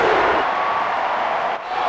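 Continuous roaring arena crowd cheering in the WWE Mayhem wrestling video game, a dense loud wash of noise with a brief dip near the end.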